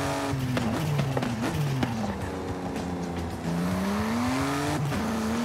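Loud, close BMW i8 engine in Forza Horizon 5 revving through rising and falling pitch sweeps, punctuated by repeated sharp exhaust pops and crackles between gear changes, with faint tire squeal.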